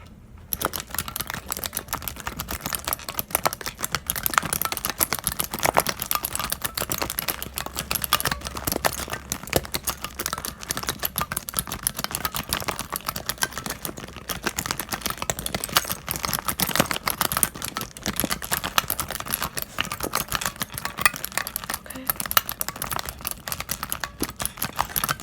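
A squishy Sprite-themed keyboard gets typed on with rapid, continuous soft clicks and clacks up close, its irregular keystroke rhythm running steadily for about twenty-five seconds with no voices.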